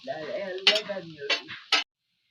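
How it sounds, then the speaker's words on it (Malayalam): Grated coconut roasting in coconut oil in a pan, with scraping stirs and soft sizzling in short bursts, close and moderately loud before stopping abruptly. "തേങ്ങ വറുക്കുക"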